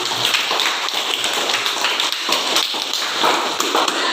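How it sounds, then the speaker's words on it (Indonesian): Applause from a classroom of students, dense steady clapping that holds at an even, fairly loud level for the whole stretch, with no talking. "Di aplaus dulu kepada tokoh Utsman bin Affan."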